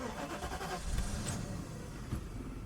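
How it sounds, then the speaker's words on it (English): Mercedes S500 W140 V8 engine starting, a muffled crank and catch settling into a steady low idle rumble, heard faintly from inside the car. "You can hear that V8 ring to life"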